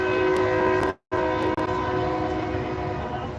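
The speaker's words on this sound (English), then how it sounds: "Super loud train." A loud train passes close by, its horn blaring with sustained tones over rumbling wheels, breaking off briefly before roaring back and slowly fading.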